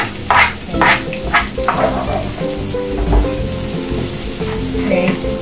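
Pork for Filipino Humba sizzles and bubbles loudly in a pan, a dense continuous frying hiss close up with a few stirring knocks near the start, no voices.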